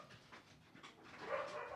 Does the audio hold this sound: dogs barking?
yes